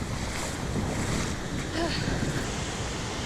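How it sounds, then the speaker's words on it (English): Powerful ocean waves roll steadily onto a beach in Portugal, a continuous roaring wash with heavy wind buffeting the microphone and no clear voices. "the waves are just ridiculous"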